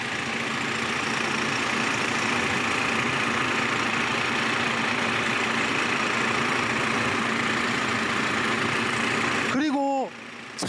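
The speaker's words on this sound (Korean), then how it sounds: "이 약간 금속성 소리가 나잖아요." A BMW G30 530i idles with a steady, close engine hum and a faint metallic edge, and a voice comes in briefly at the very end.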